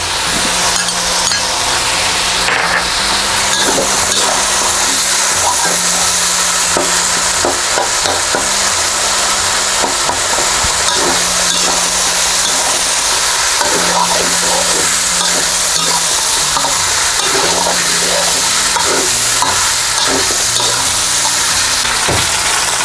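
Chicken is stir-fried with red chili curry paste in a hot pan, giving a steady, loud sizzle with repeated scraping and stirring strokes throughout, and no talking.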